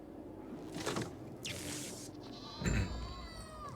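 A goat bleats in the video game Dying Light 2, a few short, fairly faint calls over a murky game background with scattered other sounds.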